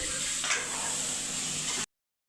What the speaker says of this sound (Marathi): आम्ही आता मटण टाकतो फोडणीला